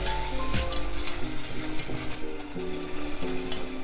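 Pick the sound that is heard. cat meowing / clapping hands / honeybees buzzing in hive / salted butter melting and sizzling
salted butter melting and sizzling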